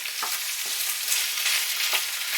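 Loofah sizzles and fries in a pan with tomato paste, garlic and onion while being stirred, a steady close hiss with a few soft scraping strokes of the spoon throughout.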